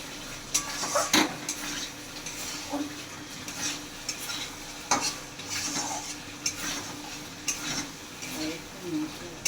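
Potato pieces fry in spiced masala while a spoon stirs and scrapes the pan, giving a continuous soft sizzle broken by repeated clinks and scrapes.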